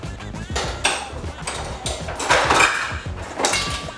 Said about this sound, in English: I'm gonna pull out my measuring spoons